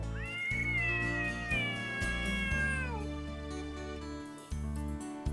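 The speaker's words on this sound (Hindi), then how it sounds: "दोनों ने बिल्ली की आवाज सुनी" A cat meows loudly and close by in a long, drawn-out call that bends downward at the end, over a sustained musical backing.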